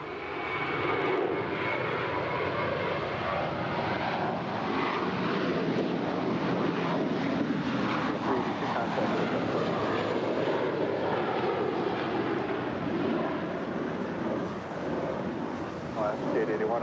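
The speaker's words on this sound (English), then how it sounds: "It's an A321 rolling down 25 right." An American Airlines A321 bound for Boston rolls for takeoff on runway 25 right at LAX, its jet engines a sustained, steady roar with a faint voice underneath.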